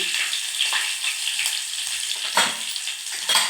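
Turmeric frying in hot oil with dried red chillies and curry leaves for a tamarind chutney tempering, a bright continuous crackling sizzle with occasional louder pops, close up and alone.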